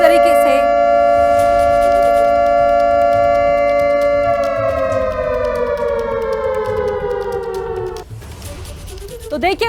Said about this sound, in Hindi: ये सायरन बज चुका है